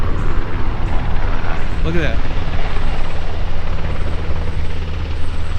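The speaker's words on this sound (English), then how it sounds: "Sounds like there's a rescue helicopter." Heavy rotor thumping of a low-flying Black Hawk rescue helicopter over a Texas flood fills the air, loud and steady as it passes low, while a person speaks briefly over it.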